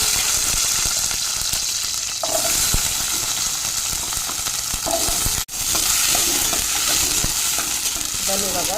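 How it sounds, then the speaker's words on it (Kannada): Steady, dense sizzling of onions frying in a little hot oil, close up, with occasional stirring scrapes and a brief dropout partway through. "ಸ್ವಲ್ಪ ಎಣ್ಣೆಯಲ್ಲೇ ಫ್ರೈ ಮಾಡ್ತೇನೆ"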